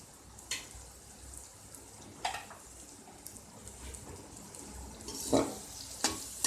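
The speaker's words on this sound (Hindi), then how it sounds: "एक मिनट भिंडी को मसाले में इसी तरह से भून लें" Okra stir-fried in masala in a pan, low steady sizzle with scattered scrapes and knocks of a spoon against the pan.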